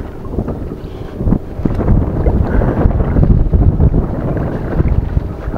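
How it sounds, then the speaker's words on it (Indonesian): Strong wind buffets a boat on a swollen river during fishing, loud gusty rumbling against the microphone with a constant low roar, no talk. "Angin kuat."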